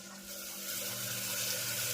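Water pours into a hot pan of tempered vegetables with a rushing hiss and faint sizzle, steady and close for a couple of seconds.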